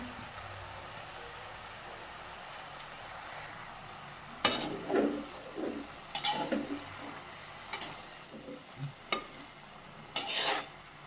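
Greens with salt and green chilli being stirred in a pan, with a soft sizzle underneath and several distinct scraping strokes of a spatula in the second half.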